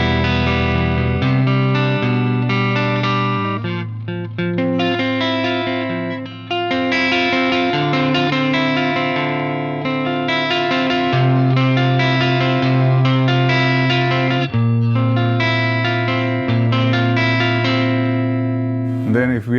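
Electric guitar played through an amplifier's clean channel, ringing chords and single notes sustained continuously, loud and close for about twenty seconds with no talking.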